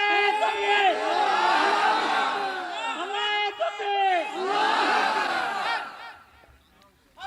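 A large crowd loudly shouting takbir in unison, with sustained swelling chants in two long waves that fade out at the end.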